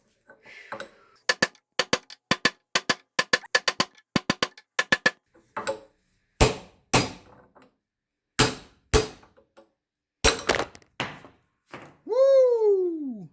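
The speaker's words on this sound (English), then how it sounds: "Pound the hell out of it until it comes out." A hammer pounds a chisel against a ball joint on a 1984 Mercedes 300SD W126 front suspension, delivering bursts of sharp metallic strikes in quick runs, then slower single blows, ending with a ringing, whining note.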